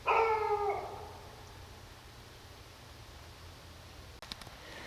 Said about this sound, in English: Now the neighbor's dog's freaking out.